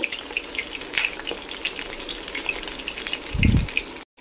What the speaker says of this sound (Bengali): এবার এটাকে আস্তে আস্তে ভাজা করে নেব।